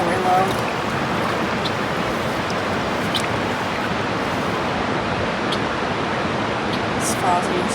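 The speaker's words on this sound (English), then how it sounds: "These falls are usually much more thunderous" A low-flowing waterfall on Crown land rushes with a steady, broad hiss of falling water, continuous and fairly close, while a person talks over it.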